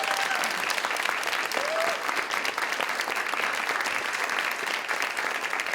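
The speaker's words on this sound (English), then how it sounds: "Give them another round of applause, please." An audience at the LA Webfest 2022 award ceremony applauds, steady dense clapping at moderate distance throughout, with a brief voice or cheer briefly audible in the mix.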